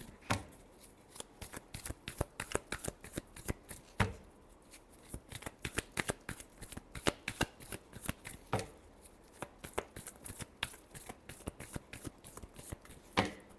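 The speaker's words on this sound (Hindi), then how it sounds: "last shuffle" Tarot cards are shuffled by hand in a quick, uneven run of crisp riffles and slaps, close and fairly quiet, with a few sharper flicks and a final snap, no voices.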